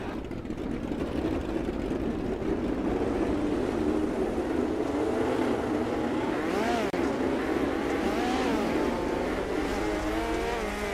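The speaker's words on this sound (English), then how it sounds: "let y'all take time to be able to listen to the cars and watch these drivers get around the track" Race car engines drone and whine continuously in the distance during warm-up laps at the Chili Bowl, pitch rising and falling as cars circle the track, with steady background noise.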